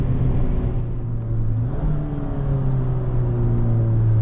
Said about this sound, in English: Downshift in the second for this corner here.